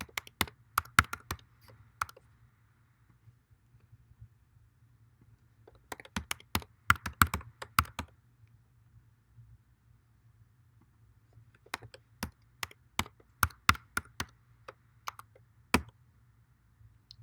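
Password keys tapped on a computer keyboard in three separate bursts of quick clicks over a faint steady hum, quiet and close, with pauses between bursts.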